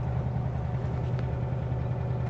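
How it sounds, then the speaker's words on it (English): A 1974 VW Beetle engine runs steadily while driving, a low, even mid-pitched drone heard from inside the car, fairly quiet and continuous. "Engine sounds good."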